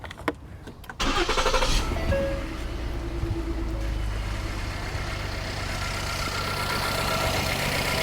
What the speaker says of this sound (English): It says start your engine.